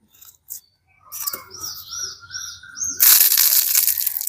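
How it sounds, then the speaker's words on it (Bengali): Crisp crackling and crunching as a flaky, crispy egg patty pastry, cooked on a stovetop, is broken apart by hand, building to a loud burst of crumbling near the end. "আমি একটা প্যাটিস আপনাদের ভেঙেও দেখাচ্ছি"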